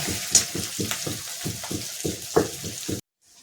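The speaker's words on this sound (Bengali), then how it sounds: "এই যে মশলা কষা চলছে" Spices, onion, garlic and ginger sautéing in a pan give a steady frying sizzle broken by repeated rhythmic stirring scrapes at close range, with no talk, and the sound stops abruptly near the end.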